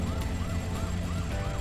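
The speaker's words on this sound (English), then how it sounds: "I thought I turned my sirens off." An emergency vehicle siren in Arma 3 Altis Life wails in fast, evenly repeating sweeps, loud and close, over a constant engine rumble with no talking.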